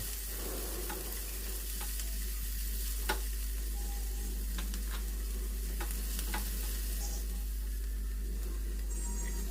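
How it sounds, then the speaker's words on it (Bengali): Onions fry in oil in a kadai while being stirred. A quiet, even sizzle runs throughout, with occasional soft scrapes and clicks from the stirring. "প্রথমে কড়াতে তেল দিয়ে পেঁয়াজগুলো দিলাম।"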